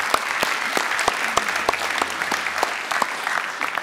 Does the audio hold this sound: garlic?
no